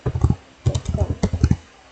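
Quick bursts of keystrokes on a computer keyboard while a file path is typed into a Debian router system, coming in short close clustered runs with brief pauses between them.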